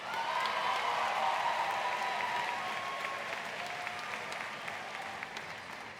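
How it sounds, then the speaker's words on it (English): A crowd at the 2016 Loy Norrix High School graduation ceremony applauds in a sustained, even wash of clapping that tapers slightly in volume toward the end, with no voices over it. "Please give them a round of applause as well."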